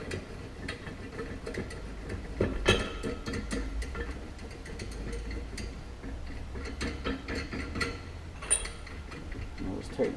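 Bolts being tightened down on a Can-Am Defender clutch helix with a tool, quiet close ratcheting clicks and ticks in irregular bursts, with occasional faint talk.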